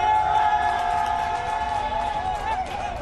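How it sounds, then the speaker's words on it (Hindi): A train pulls into a railway platform, with steady tonal machinery hum and brake squeal, while people standing on the platform clap and cheer in a diffuse crowd noise. "प्लेटफॉर्म के और नजदीक आने पर वहां खड़े लोगों ने ताली बजानी"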